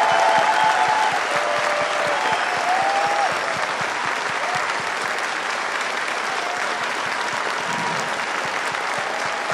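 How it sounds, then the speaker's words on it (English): Audience at TennoCon 2018 applauding the Warframe development team, a dense burst of clapping from a large indoor crowd that gradually thins out. "could we just have a little round of applause for these guys?"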